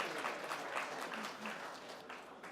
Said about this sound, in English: Let's give him some applause for that.